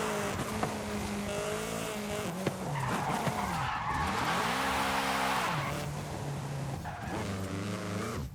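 A race car in the racing game Forza Horizon 5 skids with loud, sustained tire squeal, its engine revving and shifting pitch through a long slide, close and continuous with no talk.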